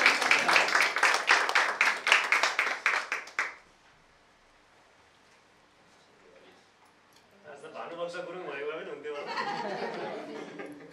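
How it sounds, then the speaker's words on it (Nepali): Audience at a closing ceremony for a ten-day personality development and announcer training applauds to welcome a trainer on stage, dense clapping for about three seconds before it stops, followed by quiet and then speech. "कृपया जोरदार तालीले उहाँलाई स्वागत गर्नुहोला।"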